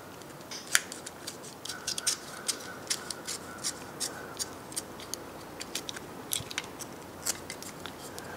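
A razor knife trims the edge of a hollow wooden sphere, making a series of small, crisp ticking cuts spaced fairly regularly over a faint background, close and quiet.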